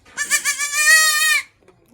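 A goat bleats once in a long, wavering, nasal cry, loud and close, heard alone before a brief quiet.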